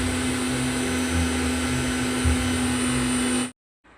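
A mixer grinder runs at full speed grinding cardamom pods with black peppercorns, giving a loud steady whining drone that cuts off abruptly near the end.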